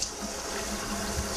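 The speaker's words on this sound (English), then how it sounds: "It's good to run the sprayers." Water runs steadily from a kitchen sink sprayer during a home inspection, a constant close hiss and splash with no talking.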